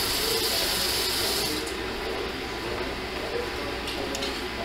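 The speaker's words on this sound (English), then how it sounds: "Let me turn that water off." A kitchen faucet runs into a sink in a steady, loud splashing hiss that eases slightly partway through as the flow changes, with no speech over it.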